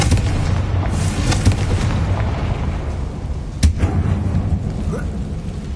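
A deep, rumbling blast from a Confringo spell sounds in a tomb-like mine in Hogwarts Legacy. It is loud and booming, with a sharp crack partway through.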